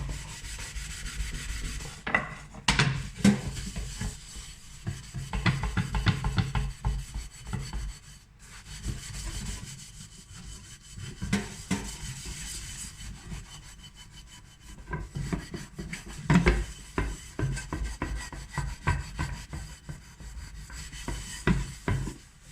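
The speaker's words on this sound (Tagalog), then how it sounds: "Babad ko ng 30 minutes bago ko kuskusin. Yan, try ko na siya kuskusin." A soaked item is scrubbed clean by hand with steady, rough back-and-forth rubbing strokes, close and continuous, with occasional louder scrapes and no talking.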